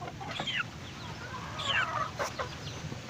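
A broodcock rooster clucks and calls in short bursts while being fed, its sharp squawks rising over a low background hum, close and moderately loud, with a soft voice faintly present.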